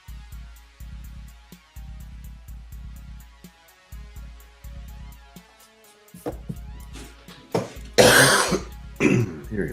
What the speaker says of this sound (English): that cough is trying to sneak into my life